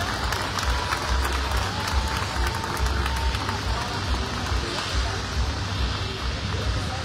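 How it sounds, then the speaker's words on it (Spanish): Steady crowd applause at a political campaign meeting in Mexico, dense clapping filling the space, loud and continuous throughout, with a low rumble underneath. "Fuerte aplauso para todos ellos, por favor."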